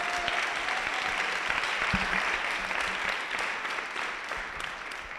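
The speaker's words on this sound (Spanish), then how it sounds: "Un aplauso para Alejandro" A crowd claps steadily in a dense, even burst of applause that fades slightly toward the end.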